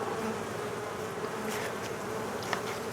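Honey bees buzz in a dense, steady drone around an open hive in an apiary during an inspection, the hum constant and close for the whole stretch with no voices.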